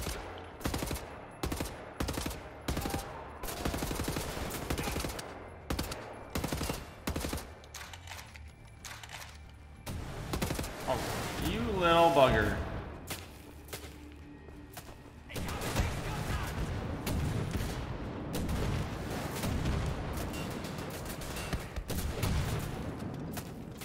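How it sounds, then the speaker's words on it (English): Gunfire in Wolfenstein: The New Order during the assault on Deathshead's compound: a burst of rapid, repeated shots in the opening seconds, then sustained automatic fire with booming impacts and game noise, loud and close. "Who is shooting at me?"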